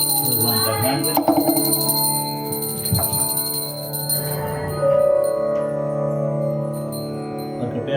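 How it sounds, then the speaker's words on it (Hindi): A hand bell rings during a Satyanarayan puja, its sustained ringing tones running through much of the stretch alongside low chanting and voices in the room. "माता जी घंटी बजा दीजिए"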